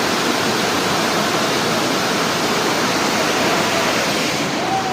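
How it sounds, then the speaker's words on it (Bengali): A mountain stream or waterfall at the Ahaldhara viewpoint near Sittong gives a loud, constant rush of flowing water with no pauses. "জলের আওয়াজটা শোনা একবার"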